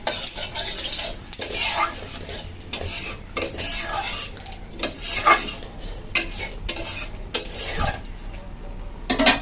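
Bay leaf, dry chilli and cumin fry in oil left from frying eggplant, sizzling steadily while a utensil scrapes and clinks against the pan in irregular bursts close by.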